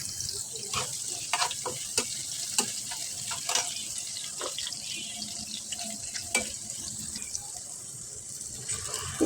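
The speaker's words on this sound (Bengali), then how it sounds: "একটা প্যানে পেঁয়াজ কুচি আর তেল দিয়ে রান্নাটা শুরু করে দিলাম" Chopped onion frying in oil in a pan, with a steady low sizzle and scattered crackles and pops running throughout, near and alone with no talk.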